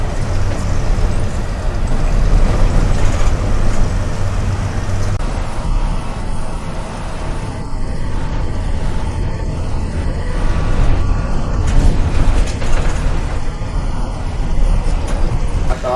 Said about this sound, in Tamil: கொஞ்சம் இங்கே டிராஃபிக்காக இருக்குது.